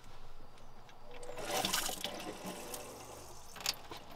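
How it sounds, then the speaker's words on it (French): Water pumped through the faucet of a camper van kitchen, a faint running and splashing flow with a brief surge in the middle, heard up close without speech. "Et ça part dans le robinet."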